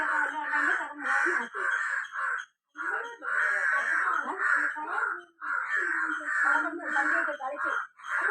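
A crow caws repeatedly near a home, its loud, harsh calls coming in steady bursts with a few short pauses between them.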